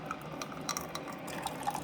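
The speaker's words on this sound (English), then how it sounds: "We're going to run a bunch of 12-ounce fresh waters on the K-cup side." Hot water streams steadily from a Keurig K-Duo coffee maker into a cup during a vinegar descaling cycle, a continuous close splashing flow with no talk.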